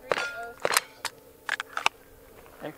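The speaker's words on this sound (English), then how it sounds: "What, two extra shots?" A Steyr L9 A1 pistol fired at a shooting match, a string of sharp, fairly faint cracks at uneven intervals, some in quick pairs, over a low background hum.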